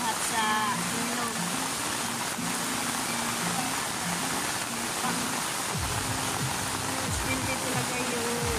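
River water flowing in a steady rushing wash, with voices talking nearby over it.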